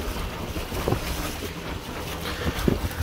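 Small boat crossing rough, choppy water with very big waves on the Danube Delta route from Maliuc to Periprava, a steady roar of wind, engine and splashing with no talk.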